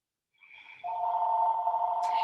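A home landline telephone rings in a steady electronic tone, first a softer higher note and then a loud sustained lower ring, close by and heard alone indoors.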